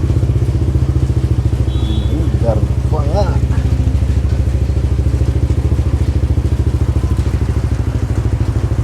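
A motorcycle fitted with a JVT version 3 adjustable exhaust pipe idles close by, a loud steady throbbing putter with even rapid pulses, and someone talks briefly over it.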